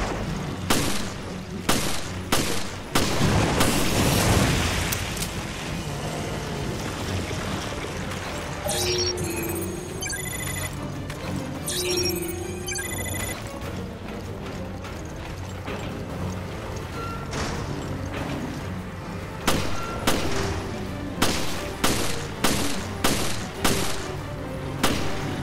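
Rapid bursts of gunfire fill the Resident Evil Revelations game scene on a cruiser, loud volleys and single shots cracking repeatedly over about twenty-five seconds, with mechanical clatter between the bursts.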